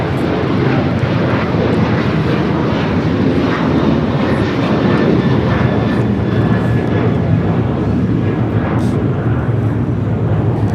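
An Alaska Airlines Boeing 737-900ER takes off at LAX bound for Portland, its jet engines a loud, dense, constant roar throughout, close and unbroken, with no voices.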